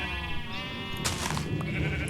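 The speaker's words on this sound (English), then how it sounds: "This is a lot of sheep." Many sheep on an automatic Minecraft sheep farm bleat over a steady background hum, with overlapping wavering baas, one louder burst in the middle and fainter calls around it.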